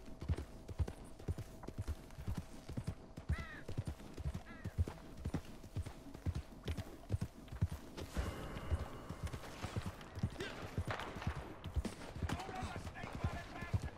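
A horse's hooves clip-clop at a steady, even trot in Red Dead Redemption 2 Online, close and rhythmic throughout, with faint game ambience and occasional higher tones over the pounding steps.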